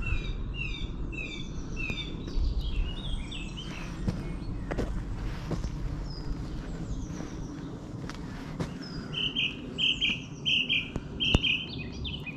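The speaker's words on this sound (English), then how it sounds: "Just listen to the birds." Birds chirp and twitter in the background on an early-morning countryside walk near Eartham village, with a burst of rapid repeated calls toward the end, over a low outdoor rumble.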